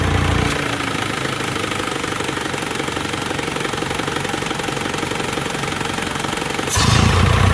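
Close, steady idle of a recently serviced car engine with the PCV valve removed, its air intake blocked by hand, a rapid rough knocking pulse that shifts near the end as the hand comes away.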